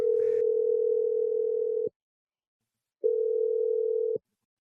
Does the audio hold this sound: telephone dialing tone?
yes